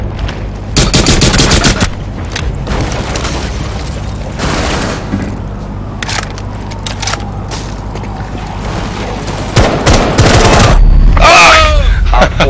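Shotgun blasts fired in the video game Overwatch come as loud, booming bursts in rapid clusters, mixed with other gunfire and mechanical game effects, with a heavier flurry of shots near the end.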